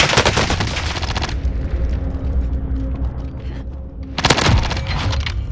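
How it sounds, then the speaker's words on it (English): SMG fire in Call of Duty: Warzone, heard as two loud, rapid bursts aimed at a wall. Between them sits a lower stretch of game ambience. "when I shoot at a wall here"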